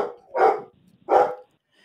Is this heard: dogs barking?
yes